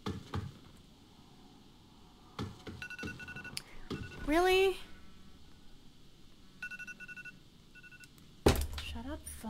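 A phone ringtone or alert tone sounds during an H1Z1 gaming session, heard as a brief rising melodic chirp near the middle, mixed with game noises and someone speaking briefly.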